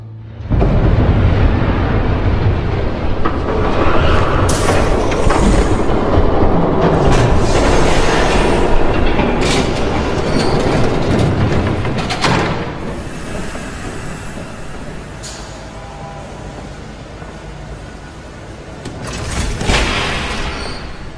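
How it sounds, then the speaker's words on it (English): A train rumbles past in the Batman Telltale Series game, a loud, sustained low roar with booming surges that swell early on and ease off toward the end. "There's a train coming."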